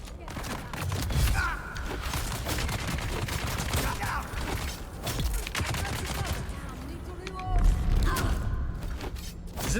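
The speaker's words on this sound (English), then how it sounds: "That's just a gun shooting on shield damage." Dune: Awakening testing station combat: rapid gunfire hitting a personal shield, sharp crackling bursts repeating across the clip with a few thuds, under a speaking player.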